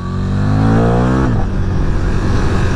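A 2024 KTM Super Duke 1390 R motorcycle engine pulls hard, its pitch climbing sharply before a quick gear change drops the revs; loud and close, with no voices.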